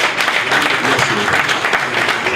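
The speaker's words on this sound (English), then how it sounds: "can you put a round of applause for them from people?" A crowd applauds steadily for a couple of seconds at an event where a reality-show winner receives a cash and SUV reward, the clapping dense and loud throughout.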